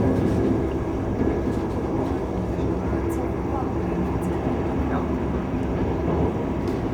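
Train running through mountain tunnels on a trip through Germany, Switzerland and Italy, a steady loud rumble and rattle of the carriage throughout, with faint voices underneath.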